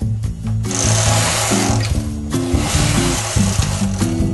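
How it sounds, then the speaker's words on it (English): A knitting machine runs loud and close, giving a continuous mechanical whirring clatter with shifting low tones as the carriage moves across the needles. "to stop those needles knitting on this machine, just bring these 2 levers forward and it won't knit those needles"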